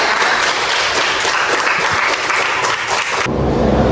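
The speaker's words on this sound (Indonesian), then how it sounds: "tepuk tangan buat Rangga" A primary school class applauds a classmate in a lesson on Panca Yadnya, loud sustained clapping from many children that cuts off abruptly near the end.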